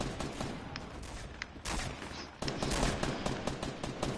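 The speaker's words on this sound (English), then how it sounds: "All I'm hearing is people shooting." Gunfire rattles through a Fortnite match: rapid bursts of automatic shots and sharp single reports, some distant and some close, with a louder volley in the second half.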